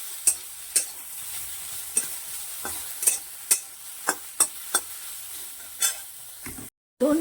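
Tomato and onion dry-roast in a pan with no oil, with a faint background hiss and a spatula that scrapes and taps against the pan about a dozen times in an uneven rhythm, close by.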